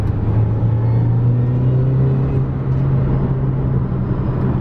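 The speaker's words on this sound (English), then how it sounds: "I don't know if the supercharger will come through on the camera," A supercharged Mini engine drones loud and steady from inside the cabin, with a low humming rumble and a faint supercharger whine above it.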